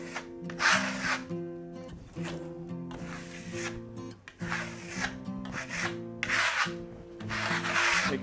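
A trowel spreads small amounts of Venetian plaster across a wall in a full coat. The close, rhythmic scraping strokes repeat about eight times with short pauses between them.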